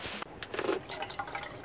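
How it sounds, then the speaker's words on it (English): Water poured into a small camping pot on a trail stove setup, a brief close trickle and splash lasting under two seconds with no talking. "I'll just put some water in the pot."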